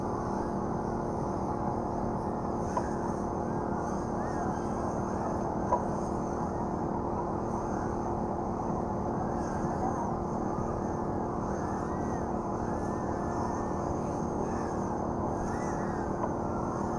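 FPV racing quadcopters flying at a summer racing event, a steady high whining drone of several small motors held throughout, with constant broadband background noise and no clear talk.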